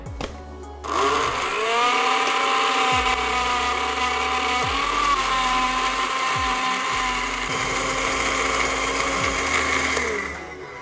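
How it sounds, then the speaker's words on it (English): A blender crushes ice for a banana-grape daiquiri, its motor kicking in after a brief pause and then whirring loudly and steadily for about ten seconds before winding down, with no talking. "My blender actually is not the best blender that I have."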